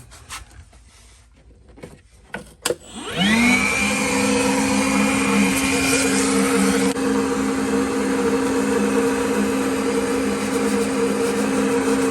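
A vacuum cleaning a Samsung refrigerator's condenser coil starts up a few seconds in and runs steadily and loudly, a constant whine with a low hum, after some quiet handling noises.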